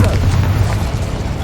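A sustained low booming roar fills the moment as the Incendio fire spell is cast in Hogwarts Legacy, loud and continuous with no audible talk.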